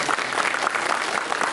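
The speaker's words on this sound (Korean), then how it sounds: "박수 한번" A short burst of dense, even applause from a film screening audience, continuous clapping throughout.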